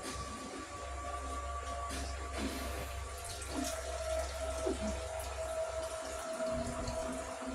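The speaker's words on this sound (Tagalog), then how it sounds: "Magdadaglag kunti ako ng tubig kasi kunti yung tubig." Water poured into a cooking pot for shrimp sinigang runs and splashes steadily at a low level, with faint clinks and small knocks in the background.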